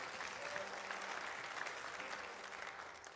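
Audience applause at a coffeehouse music performance, a steady wash of clapping that holds for a few seconds and fades slightly toward the end, heard from within the room.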